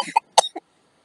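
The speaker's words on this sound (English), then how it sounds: "they're coughing up something off and then sniveling all over you" A person coughs several short, sharp times in quick succession, close and loud, followed by silence.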